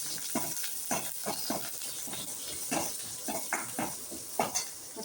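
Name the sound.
green chillies sautéing in oil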